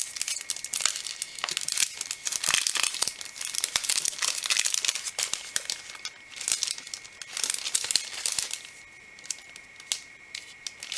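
A paper greeting card being opened and handled, giving close, steady crinkling and rustling with sharper paper crackles throughout, no talking over it.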